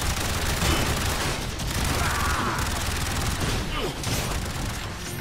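Sustained rapid gunfire in the sci-fi shooter game Warframe, a dense continuous barrage of shots with booming impacts, loud and close throughout.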